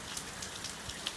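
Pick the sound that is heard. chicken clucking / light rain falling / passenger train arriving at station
light rain falling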